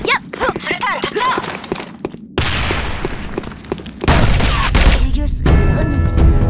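Grenade thrown and exploding in the online shooter Sudden Attack, loud booms and gunfire bursts mixed with game effects and overlapping voices.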